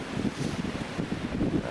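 Strong wind of about 25 mph blowing past a vertical-axis wind turbine, a steady, dense rushing roar buffeting the microphone throughout with no pauses and no voices.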